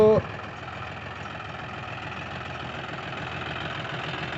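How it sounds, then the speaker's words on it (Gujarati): A John Deere 5039D Power Pro farm tractor idles steadily nearby, its low, even engine rumble holding constant throughout with no revving. "ટ્રેક્ટર જોન ડિયર પચાસ ઓગણચાલીસ ડી પાવર પ્રો"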